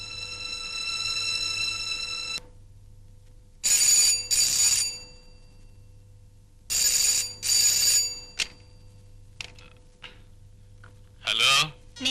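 A telephone rings in a morning scene: repeated bright, chiming bursts, loud and close, separated by short silences, with a sustained tone before them.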